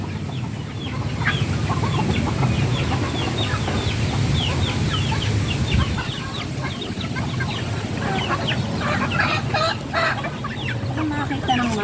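Chickens cluck steadily, close and fairly loud, with dense overlapping calls from several birds and a faint voice in the background.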